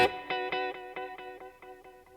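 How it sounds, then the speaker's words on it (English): A cosmic echo guitar effect set as a multi-head space echo with heads 2 and 3 engaged: one bright strummed chord repeats in a steady rhythmic train of about eight echoes, each a little quieter than the last, with no voices. "So last effect is this cosmic echo."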